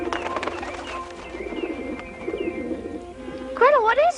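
Birds cooing like pigeons or doves in a forest, soft repeated coos with a louder warbling call near the end, mixed with faint background voices.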